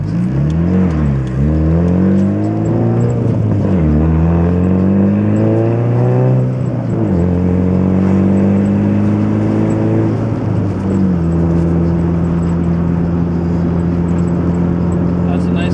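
A turbocharged Honda Civic making 371 horsepower at the wheels pulls hard under boost, engine note climbing in repeated rising sweeps through the gears, loud and close from inside the cabin with occasional talk.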